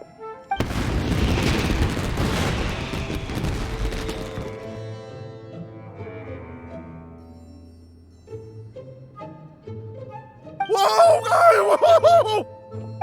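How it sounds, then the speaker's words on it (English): Fireworks burst in Genshin Impact, a dense rumbling volley of booms and crackles fading over several seconds, then quieter tonal game sounds and a bright chiming flourish near the end. "Yoimiya, this is turning into a bit of a fireworks display."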